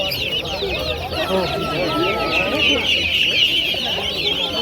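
Many chickens cluck and chatter at once, loud and close, in a continuous busy din without pause, at a poultry market in Namangan, Uzbekistan.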